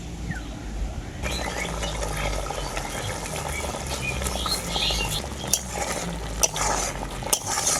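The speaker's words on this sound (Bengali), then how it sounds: "চিনিটা দেওয়ার পরে আমি খুব ভালো করে নাড়াচাড়া করে নেব" Sugar being stirred into thick, reduced chhana sweet gravy in a pan: a steady, close scraping and swishing with scattered sharp utensil clicks toward the end, and no voices.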